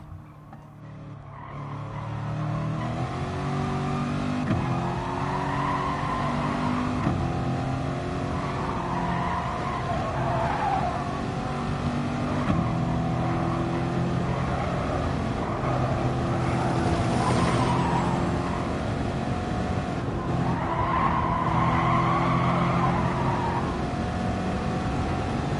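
A Volkswagen Beetle racing over a mountain track: a steady, loud engine drone with shifting pitch as it accelerates and changes gear, continuous for the whole stretch with brief tyre noise and no talk.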